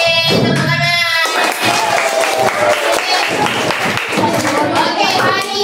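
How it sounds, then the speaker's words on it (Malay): A classroom of children clapping their hands together after a teacher's cue, a dense burst of claps continuing over several seconds with voices mixed in. "Okey, tepuk tangan."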